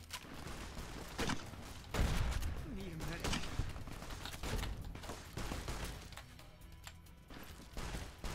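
Grenade launcher fire in Fallout: New Vegas, a string of loud booming blasts and crashes with heavy low-end thumps, repeating irregularly over constant game noise and background activity.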